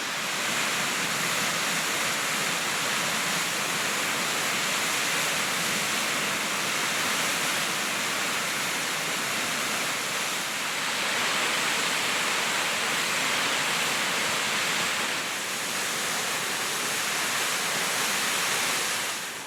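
A waterfall on the south coast of New South Wales roars in a continuous, dense wash of falling water, steady and fairly loud throughout with no voices.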